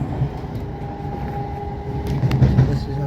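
A South West Trains Class 455 electric train runs toward London Waterloo, heard from inside as a steady low rumble with a faint motor whine and occasional clunks, no voices.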